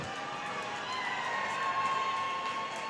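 An arena crowd cheers and roars at a Huskies college hockey game, a dense, steady wash of many voices filling the space without a break.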